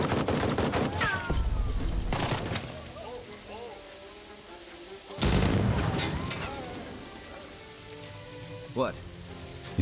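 Machine gun fire in the tactical video game Jagged Alliance 3: two loud, rapid bursts of automatic shots a few seconds apart, each tailing off into echoes, then a smaller sharp report near the end.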